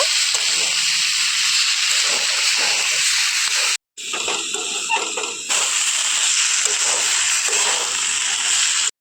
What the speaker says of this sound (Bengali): আর আমি এখন 1 মিনিট মতো খুব ভালোভাবে কিন্তু হাই হিটে কষিয়ে নেব।